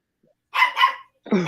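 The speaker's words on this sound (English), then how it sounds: "now the little puppy's barking" A small puppy yaps in two quick bursts, close and fairly loud, followed by a voice starting to speak.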